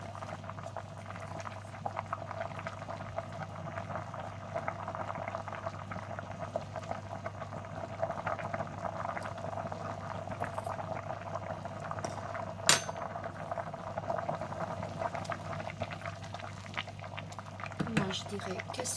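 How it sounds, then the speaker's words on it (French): Tomato sauce for spaghetti bolognese simmers on a kitchen stove, giving a continuous soft bubbling and popping over a low hum, with one sharp clink midway. "ma sauce tomate continue à cuire, ça va hyper vite aujourd'hui"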